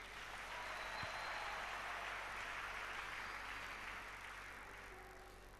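A church congregation acclaims Jesus with a steady wash of clapping and cheering that swells at once, holds for several seconds and then slowly fades, with no talking over it.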